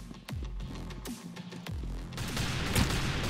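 Rapid gunfire in the Roblox shooter Arsenal: a few sharp, separate shots early on, then a denser burst of firing that keeps up to the end, loud and close.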